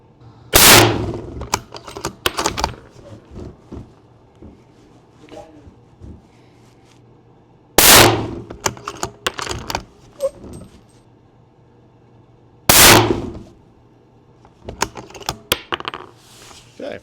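Three sharp, loud rifle shots from a long range hunting rifle, spaced several seconds apart, each followed by a ringing tail and small clicks and clatter of handling the gun in between.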